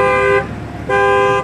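Two loud, close horn toots from a car on a dealer lot, each about a third of a second with a short gap between them, as the car is locked with its remote.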